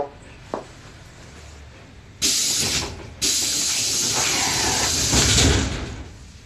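The pneumatic doors of an ED4M electric commuter train close with two loud hissing bursts of released air, the second longer and sustained, over a quieter carriage hum.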